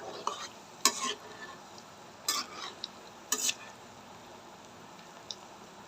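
Banana flower chops fry in plenty of oil, a low steady sizzle broken by a few sharp metallic clinks and scrapes of a utensil against the pan.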